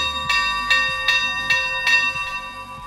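A large bell is struck about six times at a steady rhythm, each loud ringing strike overlapping the lingering metallic tone of the last, close and clear with no talk.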